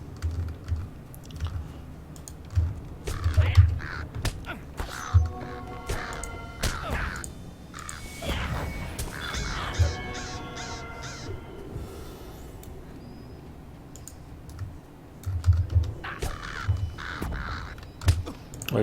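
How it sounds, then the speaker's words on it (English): Crows caw repeatedly in a video game while the player hunts them for a quest, the harsh calls mixed with steady keyboard typing and clicks, and no voices. "I've killed enough crows for the Crow Slayer quest."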